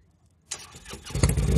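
A Harley motorcycle engine fires up at a drag race event after a brief quiet moment and builds quickly into a loud, rough roar close by.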